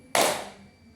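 A group of people give a single sharp burst of hand clapping in an ice-breaking clap game, one loud crisp clap that fades quickly.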